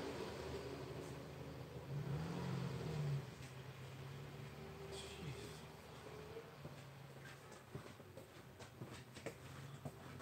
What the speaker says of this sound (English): It's like everybody is driving past the storage unit right now for some reason.